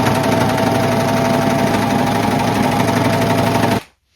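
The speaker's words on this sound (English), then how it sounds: "I'm going to go ahead and use my serger around all of the raw edges" A serger overlocks the raw edges of thrifted quilt fabric, a steady, fast mechanical whir running continuously and loud close up before cutting off abruptly near the end.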